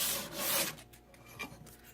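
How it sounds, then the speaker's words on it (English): Faint, steady abrasive rubbing of sandpaper over a metal surface and edge, in uneven back-and-forth strokes without any talking. "So I'm sanding along the surface at an angle, and then I'm also sanding along the edge"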